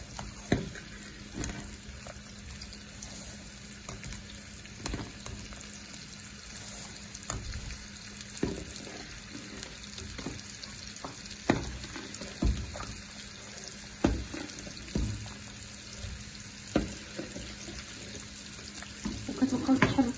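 Barley grits are added little by little to a cooking pot while being stirred, with repeated scraping and knocking strokes over a low bubbling simmer, fairly quiet and without talk.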